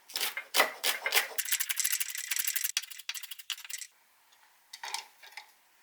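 A knife mincing green onion on a cutting board for an eggplant rice bowl sauce: quick, dense runs of close chopping taps, pausing briefly near the end before a short final burst.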